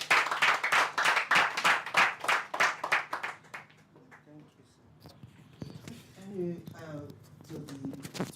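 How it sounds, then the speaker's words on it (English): An audience at a mentee testimony session claps in a brisk, dense burst of applause for a few seconds, fading as a speaker's voice continues over sparse background sounds. "Please clap better."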